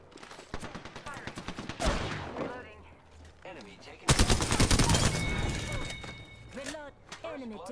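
Video game gunfire crackles in bursts, building to a dense, loud volley midway through, with voices talking over the shooting at several points.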